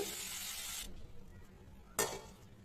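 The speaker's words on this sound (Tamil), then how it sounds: "முள்ளங்கி சேர்த்துட்டு கொஞ்சமாக உப்பு போட்டு நல்லா எண்ணெயில் விட்டு வேக வைங்க" Red radish frying in oil with a little salt gives a steady close sizzle for nearly a second, then a quieter stretch and a short sharp burst of sizzle as the pan is stirred.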